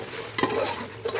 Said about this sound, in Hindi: गोश्त को इसमें ऐड करने के बाद अच्छे से इसको भून लेंगे।